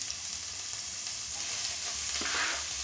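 Steady, close sizzling of onions and garlic frying in a hot pan, a continuous crackling hiss with a faint stir near the end.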